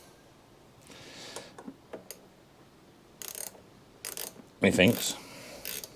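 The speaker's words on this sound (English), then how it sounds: "we're now going to try and do up this nut without doing it up the wrong way" A bowl nut being tightened with a tool during fuel-system work on a small engine, heard as a few sharp metallic ratcheting clicks and knocks between pauses, with a louder clatter near the end and brief talk.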